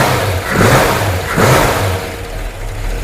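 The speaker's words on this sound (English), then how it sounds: "You hear those solid lifters?" A 1965 K-Code Ford Mustang V8 with solid lifters revs up twice over its idle, the engine swelling loud and close, then settles back to a lumpy, clattering idle.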